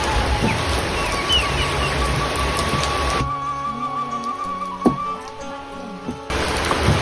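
Rain falls outdoors during a cassava harvest, a steady broadband hiss that drops away for a quieter stretch mid-clip before returning at full strength.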